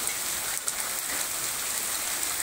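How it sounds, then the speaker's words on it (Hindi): Heavy hail pouring down in a rural village in Alwar district, Rajasthan, a dense unbroken hiss and patter of stones striking the ground, loud and steady with no voices. "ओलों की एकदम सूखी बरसात हो रही है"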